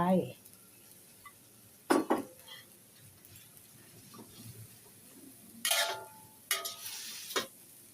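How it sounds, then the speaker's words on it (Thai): Noodles tossed into a hot wok for spicy stir-fried rice vermicelli, giving a few sharp clanks and scrapes of a utensil against the pan, with bursts of sizzling at intervals and quieter stretches between. "แล้วยายก็จะใส่เส้นลงไปนะ"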